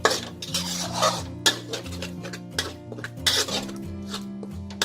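Chili paste stir-fried slowly over low heat in a pan for Thai roasted shrimp-paste chili dip, with repeated close scraping and clinking of a utensil against the pan, steady and unhurried.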